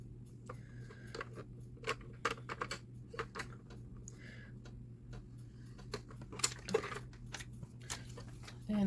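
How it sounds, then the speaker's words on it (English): Scissors snip through a stack of paper sheets being cut together for a binder, giving a series of short, close crisp cuts with small pauses in between and a steady low hum underneath. "I'm going to stack all these together and cut all these together."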